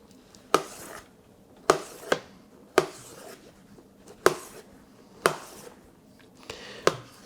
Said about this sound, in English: So we should chop these in a cubic size